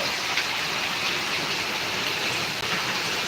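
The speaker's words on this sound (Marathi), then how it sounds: "पाण्यामध्ये बुडायची वेळ आली दादा इतका पाऊस आहे इकडं" Steady, dense downpour of heavy rain in Karnataka, a continuous broadband hiss with no pauses and no voices.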